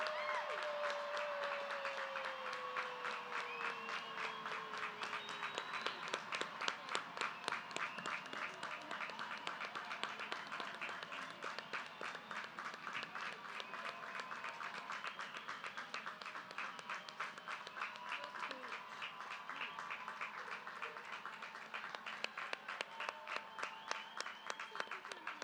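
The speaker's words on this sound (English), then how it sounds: "let's give all of our recipients a huge round of applause" A graduation ceremony crowd applauds the award recipients with sustained, dense clapping that keeps a steady rhythm throughout, with scattered cheers and some talking in the background.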